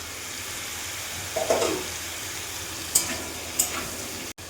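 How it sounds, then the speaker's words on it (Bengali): Potatoes and pointed gourd fry in a pan for a paneer dish, making a soft, continuous sizzle. A few light utensil taps and scrapes come through at intervals. "আলু পটলটা ভেজে নেব আমি"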